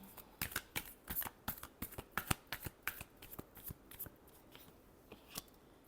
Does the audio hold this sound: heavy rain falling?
no